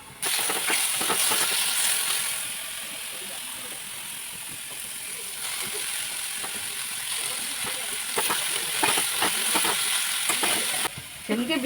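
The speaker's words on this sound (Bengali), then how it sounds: "কালো জিরা শুকনো লঙ্কা ফোড়ন দিয়ে বেগুনটাকে দিয়ে দিলাম" Chopped eggplant fries in oil tempered with black cumin and dried chili, a bright steady sizzle with intermittent scraping stirs, close and moderately loud, some talk faintly underneath.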